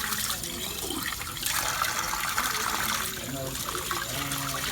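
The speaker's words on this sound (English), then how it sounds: "Now dump the water out and dispose of the HCl detergent down the sink" Water mixed with HCl detergent is poured out of a container down a sink as a steady, rushing splash lasting several seconds, with a faint voice in the background.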